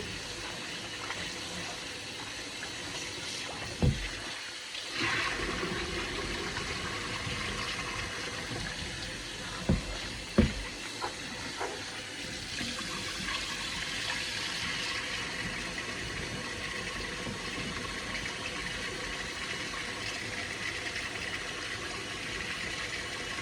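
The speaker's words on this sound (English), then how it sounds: "I'm going to rinse them. You can rinse them as many times as you want to." Running tap water pours steadily over chitterlings being rinsed in a sink, a constant close gushing rush with a few sharper splashes and knocks as the pieces are handled.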